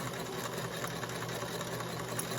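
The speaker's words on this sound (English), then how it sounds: "Then I'm just going to sew along here." A sewing machine runs steadily while chain piecing fabric, giving a fast, continuous whirring stitch at low volume without pauses or talk.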